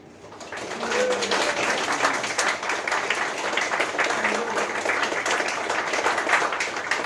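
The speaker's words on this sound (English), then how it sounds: "big round of applause" A big round of applause at a Teletext 50 gathering, steady crowd clapping that swells in after a moment and carries on at an even, fairly loud level, with some voices and a cooing pigeon faintly mixed in.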